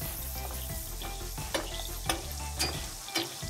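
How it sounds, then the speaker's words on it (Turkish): Duck meat searing in a pan on a chef's stove, a steady close sizzle with a few sharp utensil clicks and stirring scrapes breaking through. "Şimdi yavaşça et tarafını pişirmeye başlayacağım."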